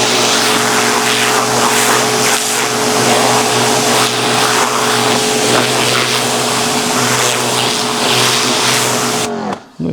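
A Kolner KHPW 2700IFR pressure washer runs outdoors while cleaning. Its motor hums close and loud as a steady, continuous drone, then cuts off abruptly at the end.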